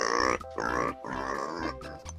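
A pig grunts and oinks in three or four short, nasal bursts, fairly close and moderately quiet, with no other sounds around it.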